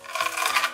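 A knife slices through a crispy, golden-fried potato shred pancake on a cutting board, giving a short, close, dry rasping crunch that lasts under a second, with no talking.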